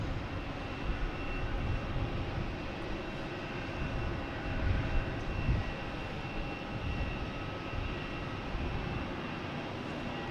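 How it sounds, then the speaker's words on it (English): American Airlines airliner arriving from LAX at Boston Logan, a steady broad engine roar heard from a distance, swelling slightly midway and otherwise constant, no voices. "Here's American Airlines. Just came in from LAX"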